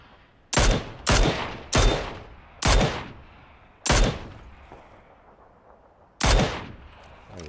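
Gunfire in the PUBG battle royale game: six sharp, loud shots spaced irregularly across the stretch, each cracking out and ringing off with a short decaying tail, with no talk over them.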